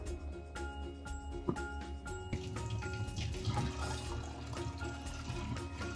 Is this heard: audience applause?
no